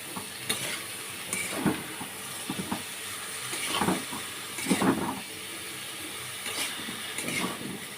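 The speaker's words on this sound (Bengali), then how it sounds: "সবজি দিয়ে তারপর আমি চিংড়ি মাছের সঙ্গে সবজিটাকে একটু কিছু সময় একটু কষিয়ে নিচ্ছি" Winter vegetables sautéing with prawns in a pan, a steady close sizzle broken by repeated scrapes and stirring clatters of a spoon against the pan.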